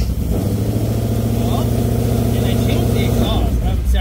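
A Coyote V8 swapped into a Ford Shelby GT500, fitted with a new starter, runs with a steady rumbling idle that holds evenly throughout, with a slight shift near the end.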